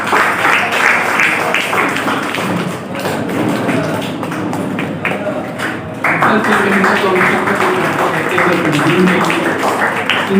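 Loud applause for the state president of the Akhil Bharatiya Urdu teachers' association at a career guidance program, steady dense clapping with a voice talking over it throughout.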